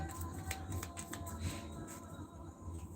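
Tarot cards shuffled by hand, a quiet run of soft papery riffles and light flicks close by, with no talking.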